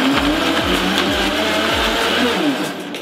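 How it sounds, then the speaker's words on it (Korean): A kitchen blender crushes ice while mixing a Jolly Pong cereal latte with cookies-and-cream flavors, giving a loud, steady whir with rhythmic low pulses as the ice breaks up, close by with no talk. "누구나 집에 가지고 있는 믹서기를 가지고 조리퐁 라떼를 거의 다 완성을 한 것 같습니다"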